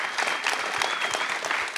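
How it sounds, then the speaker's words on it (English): An audience at an entrepreneur speaker series on leadership and brand identity claps steadily, a dense, continuous round of applause filling the short span without talk. "Give them a round of applause before we start."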